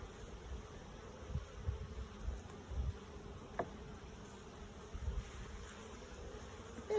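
Honey bees buzz steadily around a beehive frame lifted from the hive, a soft continuous hum with a few louder low thumps, heard alone without talk.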